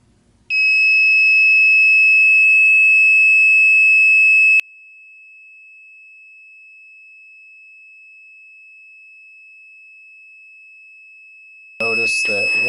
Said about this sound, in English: we'll record just how much sound the internal alarm puts out